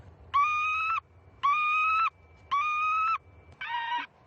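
Recorded lapwing distress call played through a loudspeaker to scare birds: four loud, even, drawn-out tonal cries of about half a second each, evenly spaced, sounding near and clear with no talking.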